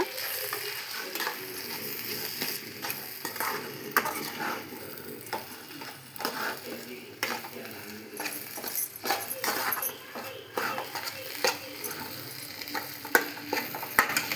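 Egg bhurji being stirred in a hot pan, with a steady sizzle of frying under repeated scraping and clinking of a spatula against the metal, close and continuous throughout.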